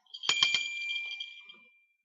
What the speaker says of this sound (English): Then ring the bell.